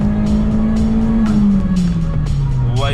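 Renault Clio RS 197 engine pulling hard at high revs, a loud sustained drone that climbs and then eases as the variable valve timing engages around 5,500 rpm, with brief bursts of road and wind noise over it.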